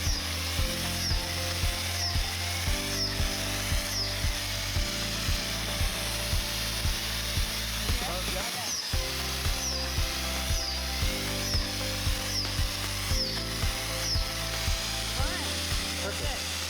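A power drill whirs in repeated short bursts, starting and stopping in a steady rhythm as it bores holes into an oak log for shiitake inoculation, with faint voices in the background.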